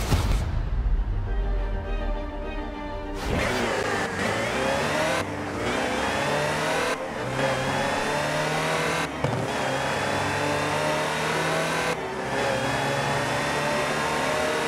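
A Land Rover Type 3 utility vehicle's engine revs loudly in Forza Horizon, starting with a steady idle before climbing through repeated acceleration pulls and gear changes, up close and with no talk.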